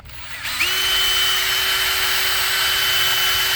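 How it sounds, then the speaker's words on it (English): A DeWalt power drill fitted with a red roll-lock abrasive disc spins up and whirs steadily while cleaning the mating surface of a front wheel hub on a 2019 Ford F-150 during bearing replacement, loud and close with no talk. "the DeWalt drill."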